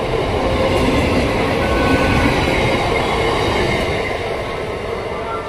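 Train carrying crowds of Durga Puja visitors rumbles past nearby, a loud steady roar of wheels and wagons that eases slightly toward the end.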